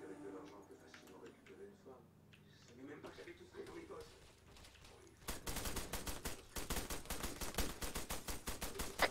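Gunfire in a roleplay video game: scattered shots at first, then a rapid sustained burst of automatic fire, with players talking over it.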